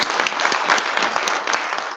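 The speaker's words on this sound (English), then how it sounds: "Everybody, so a strong round of applause." Full, steady applause from a conference audience as an honoree comes on stage, dense and even clapping throughout, fairly loud with light crowd murmur underneath.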